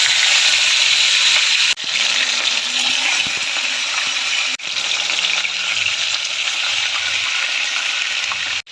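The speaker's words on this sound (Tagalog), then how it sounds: "Habang piniprito ko yung tilapia" Tilapia fries in hot oil, giving a loud, dense, continuous sizzle with crackles and two brief interruptions, close up and without talk.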